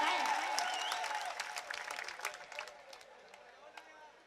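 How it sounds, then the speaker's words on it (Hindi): Audience at an Urdu mushaira poetry gathering claps in a burst that starts loud and gradually thins out over about four seconds, with crowd murmur and voices mixed in. "मैं चाहता हूँ कि एक बार पूरा पिंडाल जोरदार तालियां बजाकर मुझे बताएं।"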